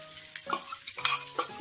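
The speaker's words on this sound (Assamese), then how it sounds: "অকমান ভাজি লওঁ" Fermented fish hidol paste fries briefly with onion in a pan, giving a quiet sizzle broken by a few soft spatula scrapes and stirs.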